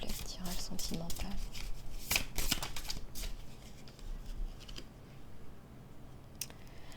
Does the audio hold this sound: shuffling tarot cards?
yes